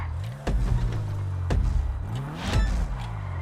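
Stolen car driving in GTA Online, its engine droning with rising and falling revs and a few sharp bursts as it moves, fairly quiet and with no talking.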